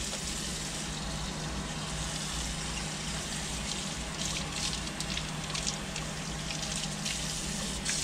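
Water runs steadily from a tap as green onions are rinsed, a soft continuous hiss and splash with faint irregular spatter throughout.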